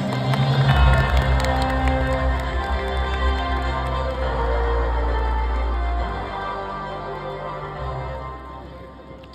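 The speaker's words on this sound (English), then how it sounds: "Let's give her a warm round of applause." A graduation ceremony crowd applauds and cheers for a magna cum laude elementary education graduate, a loud, dense wash of clapping and shouts that fades gradually toward the end.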